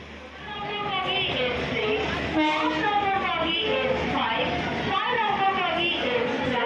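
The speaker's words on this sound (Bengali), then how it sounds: "আমাদের ট্রেন চলে এসেছে, এবার আমরা উঠে যাবো ট্রেনে।" A Jagannath Express train pulls in at Santragachi station with a loud, sustained rumble and long horn tones, heard close on the platform.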